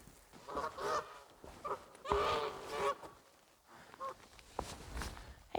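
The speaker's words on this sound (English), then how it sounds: "Hey geese!" Geese honk in a series of irregular, fairly close calls, some overlapping, with rustling between them and no talking.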